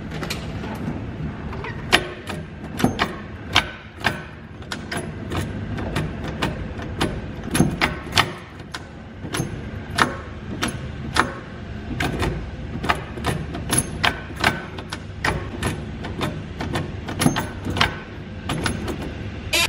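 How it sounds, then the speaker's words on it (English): Repeated clunks and knocks from the gear shifter of a Toyota MR2 being worked back and forth, a worn shifter bushing rattling with each push, close up and irregular over a low mechanical background, no talking. "that was me trying to move the shifter"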